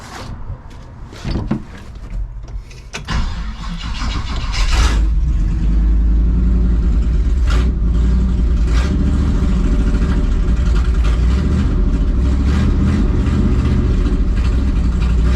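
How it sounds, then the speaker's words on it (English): A 1968 Chevy Suburban engine with a major misfire cranks and catches, then settles into a loud, lumpy low rumble with an uneven beat that carries on steadily. "Man, the thing runs like crap. Major misfire."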